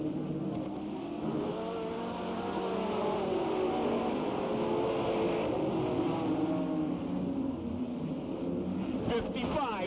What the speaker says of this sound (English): Mark Sweeney sends the field charging down into corner number 1